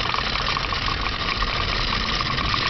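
Small Wilesco D365 Old Smokey steam roller, a methanol-fired toy steam engine, runs steadily and close up, its hissing, rattling mechanism holding a continuous even drone that seems to pick up speed, with no talking.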